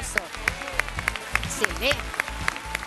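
A studio audience on a television show applauds with rhythmic, fairly regular claps, mixed with background music and a voice speaking over it.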